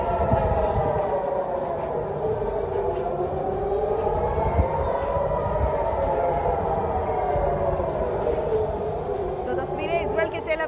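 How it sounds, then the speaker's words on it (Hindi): A wailing air raid siren rises and falls continuously in the background during Israeli strikes on Lebanon, steady and fairly loud, with a busy low rumble underneath. "जहां पर लगातार हवाई हमले का सायरन बज रहा है"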